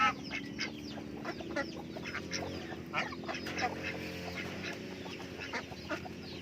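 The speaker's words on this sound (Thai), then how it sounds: "ห้านกับเป็ดอยู่น้ำกัน" Ducks quack repeatedly in a busy, overlapping chorus, short nasal calls rising and falling at a moderate distance.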